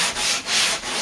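Bondo body filler on a car body line is hand-sanded in even, rhythmic strokes, a close, loud, gritty rasp that swells and dips about three times with no talking.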